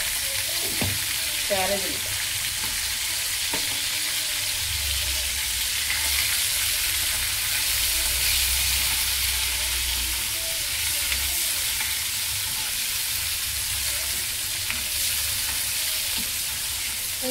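Ivy gourd (dondakaya) fries steadily in a pan, a continuous loud sizzle with occasional stirring, while people talk briefly over it.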